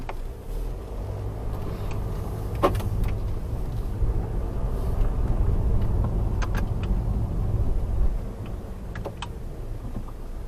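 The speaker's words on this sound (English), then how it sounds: "now we're going for a drive in the Land Rover Discovery Sport for the first time since I got it back" A Land Rover Discovery Sport, just back from accident repair, drives along with a steady low road and engine rumble heard from inside the cabin, plus a few faint ticks and clicks and no talking.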